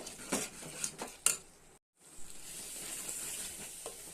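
A spoon scrapes and clinks in a pan while masala powder is stirred into curry, giving a few sharp metallic taps over a soft sizzle, then a short pause and a steady low hiss.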